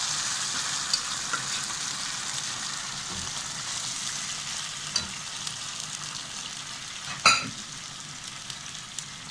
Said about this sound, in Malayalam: ഇതിലോട്ട് നമ്മുടെ വേവിച്ച് വെച്ച പച്ചക്കറി ചേർത്ത് കൊടുക്കാം